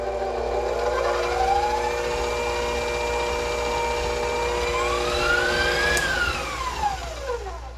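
An electric mixer on stir speed churns dry biscuit ingredients in a mixing bowl, its steady motor whine drifting up and down in pitch as it runs continuously at close range.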